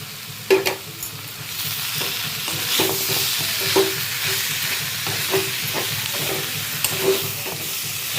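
Boiled potatoes being added and stirred in a frying pan for a jackfruit seed curry, a steady sizzle under repeated scraping and clinking strokes of a spoon against the pan at an irregular rhythm, close and moderately loud.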